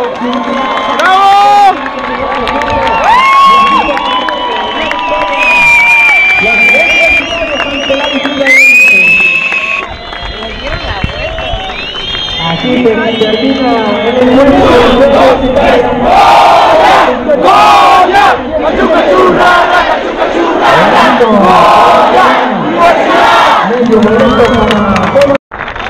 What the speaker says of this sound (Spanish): Aplauden al equipo visitante y el equipo visitante a la porra del equipo local.